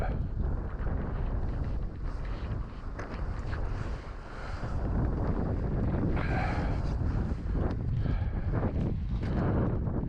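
Strong mountain wind high on Pikes Peak buffets the microphone in a loud, continuous roar that dips briefly midway, with gusty rushes throughout and no speech.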